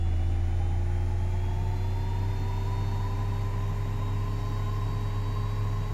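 Steady, unbroken engine drone of a Learjet 35A in Microsoft Flight Simulator 2024, a loud low hum with a faint high whine layered on top, holding constant throughout.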